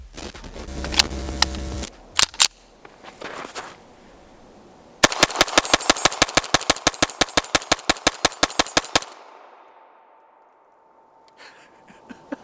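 A BUL Armory SAS II UR Shorty pistol fires its first magazine in a rapid, evenly spaced string of about twenty sharp, loud shots, after a few earlier isolated bangs and mechanical clatter, then quiet.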